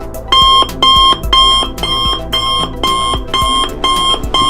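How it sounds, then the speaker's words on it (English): An electronic alarm from a Commodore 64 device sounds loud and close, with repeated bright bleeping bursts in a steady rhythm and no talk. "here's the alarm"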